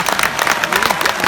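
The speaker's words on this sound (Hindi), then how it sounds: "मेरे स्वागत में दोबारा जोरदार तालियां बजाएं।" Loud, dense applause from a live audience at a Hindi poetry recital stage event, many hands clapping continuously and close, with some crowd murmur mixed in.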